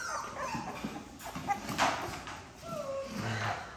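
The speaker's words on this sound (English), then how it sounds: "Add a couple puppies at a time." Puppies whimper and yip in short, high bursts close by, with a person talking underneath.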